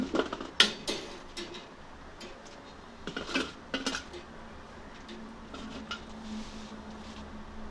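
Okra pieces go into a pan of Nellore-style fish curry with curry leaves, faint clinks and light clattering of utensils against the pan over a low steady background hum.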